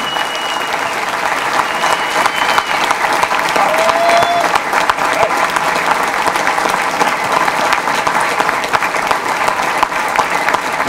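A large audience at a political event applauds loudly and continuously, a dense wash of clapping that holds steady for about eleven seconds without a break.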